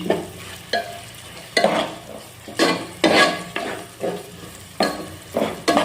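Chicken pulao stirred in a pan with a spoon: about eight distinct scraping strokes over a low frying sizzle, each a close, rough swish against the metal, with no talking.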